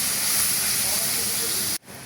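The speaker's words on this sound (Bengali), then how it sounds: "এখন দিয়ে দিব রসুন। রসুনটা দিয়ে একটু লাড়াচাড়া করতে নিতে হবে" Garlic frying in hot oil for a broiler chicken garlic curry gives a steady, loud, close hiss of sizzling that cuts off abruptly near the end.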